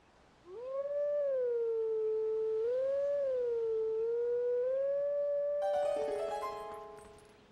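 A long, eerie wavering howl from a Howling Stone in the video game The Legend of Zelda: Twilight Princess rises and sustains for several seconds, like a distant siren or wolf, ending with a few brighter chime-like tones.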